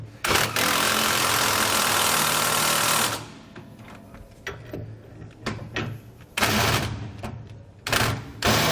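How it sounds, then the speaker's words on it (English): A rattling impact-style tool drives a 21mm socket to tighten bracket bolts for a rear anti-sway bar on a 2019 Coachmen Mirada motorhome, a loud burst up front followed by shorter sputtering bursts close by. "We'll just grab that same 21mm socket and tighten up both the bolts."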